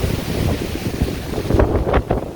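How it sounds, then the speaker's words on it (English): A strong wind gust during Hurricane Ian in Groveland, Florida, roaring loud and close with buffeting on the microphone that swells into a few sharp blasts near the end. "See the gust there. See that gust? Hear the gust. Hear that gust."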